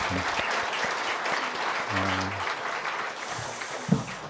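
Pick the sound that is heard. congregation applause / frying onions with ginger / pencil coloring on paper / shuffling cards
congregation applause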